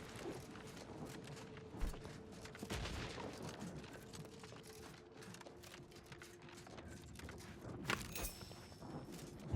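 Enemy gunfire in the Outer Worlds 2 video game, scattered quiet cracks and short bursts with a few sharper shots near the end, faint and somewhat distant.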